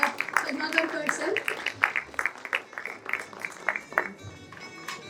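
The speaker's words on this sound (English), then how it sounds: "Round of applause for Neil Varne sir and Padmakar Phad sir" Audience applause at a morning session of an ADT talk, with steady scattered clapping heard throughout at a moderate distance.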